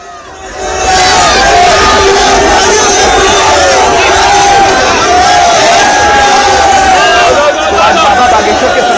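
A large crowd at a Sanatan Hindu unity march in Faridabad, Haryana, breaking into loud sustained cheering and chanting that swells up after a moment of quiet and stays dense, close and roaring with overlapping voices.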